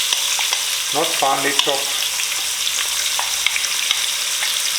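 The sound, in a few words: chopped onion frying in spices for Durban curry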